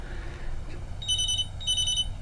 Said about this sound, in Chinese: 这刚说的电话又响了